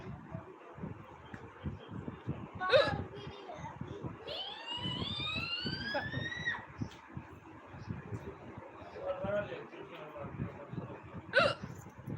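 Someone hiccups twice, with sharp isolated catches a few seconds apart, amid quiet talk and soft background rustle with a brief rising whine in between.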